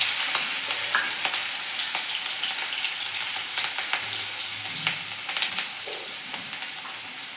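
Finely chopped green chillies added to hot oil tempered only with asafoetida, giving a steady close sizzle with scattered crackles and light stirring, slowly easing off.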